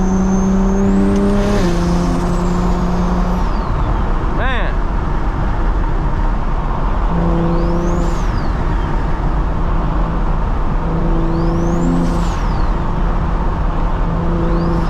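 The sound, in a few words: BMW 335i engine accelerating on back roads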